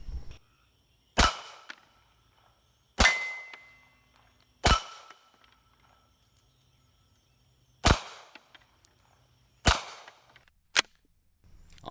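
Six sharp, loud shots from a Beretta Cx4 Storm pistol-caliber carbine fired outdoors at steel plinking targets, spaced a second or more apart, each crack followed by a short ringing decay.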